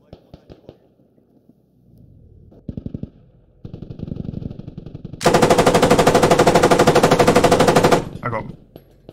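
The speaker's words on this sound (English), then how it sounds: "I hear them shooting." Video game gunfire: scattered shots, then a long burst of rapid automatic fire, loud and close, with some quieter rattling before and after.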